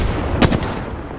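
A quick burst of several gunshots in the video game Apex Legends rattles off in rapid succession over a steady low background rumble, fairly close and sharp.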